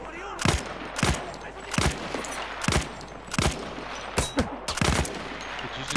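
Single gunshots ring out in a Battlefield 1 match, sharp and loud, spaced irregularly about a second apart, some in quick pairs, over a low battle rumble.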